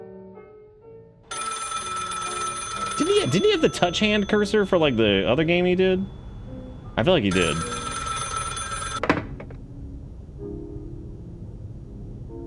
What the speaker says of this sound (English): tried to stand tall, but the silence broke with a sudden phone call.